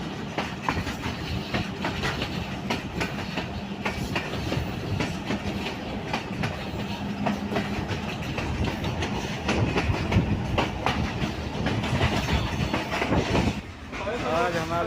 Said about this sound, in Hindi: train chalisa junction railway station से थ्रू पास कर गई है